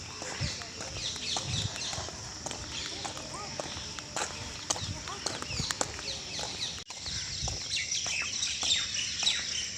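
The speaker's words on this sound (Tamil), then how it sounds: "இங்கே மைனாக்கள் கூட்டம் கூட்டமாக இருக்குது பாருங்க" Flocks of myna birds chirp and call in a busy, scattered chorus outdoors in a green walking area, alongside footsteps and quiet voices.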